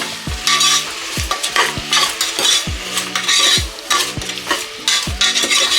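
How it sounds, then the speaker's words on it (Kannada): Mushrooms frying in oil for biryani, stirred briskly with a spoon: a loud, close sizzle under repeated rhythmic scraping and clinking strokes against the pan, no voices. "ಈ ರೀತಿ ಇದನ್ನ ಚೆನ್ನಾಗಿ ಮಿಕ್ಸ್ ಮಾಡಿಕೊಂಡು ಮಶ್ರೂಮ್ನ ಬೇಯೋದಕ್ಕೆ ಬಿಡಬೇಕು."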